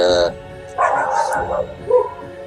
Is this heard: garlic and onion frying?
no